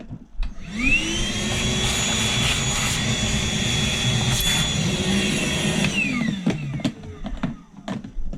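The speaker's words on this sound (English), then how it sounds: "this is why we keep this right here. The old Hart shop vac." An old Hart shop vac runs loud and steady, starting with a rising whine, holding a constant roar for about five seconds, then winding down as it shuts off.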